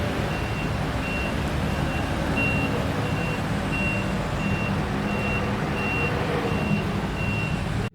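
A bus on the Baraya route from Bandung to Alam Sutera backs up, its reversing alarm sounding steady, evenly spaced beeps over a constant engine and street rumble.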